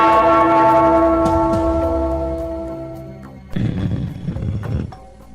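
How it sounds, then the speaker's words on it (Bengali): A large bell rings with a long, loud sustained tone that slowly decays, followed by a rumbling clatter near the end, with no speech. "ওই ঘন্টাটা বাজাও,"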